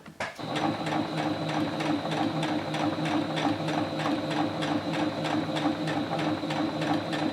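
Close up, a sewing machine stitches fabric toward a corner while sewing a triangle, a steady, rapid mechanical chatter with even needle strokes running without pause after a brief start.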